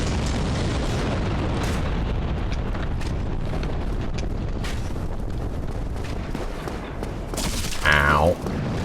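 Booming explosion in Dark Souls, a loud low rumble near the end over steady game ambience with some voice.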